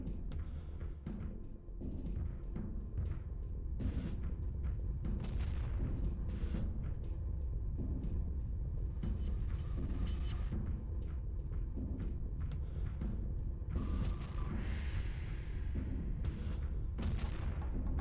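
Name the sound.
explosion noises in a room in the N64 game Armorines: Project S.W.A.R.M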